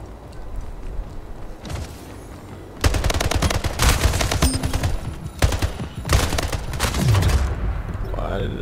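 Rapid automatic gunfire from the Splitgate arena shooter video game, loud close bursts in two long volleys separated by a short pause, with quieter shots before and little talk.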